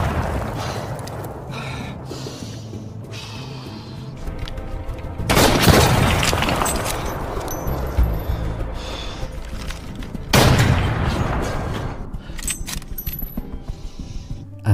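A tense stretch of low rumbling film action during a gunfight with a sniper, with two loud, noisy bursts of shots and impacts, plus scattered sharp cracks between them.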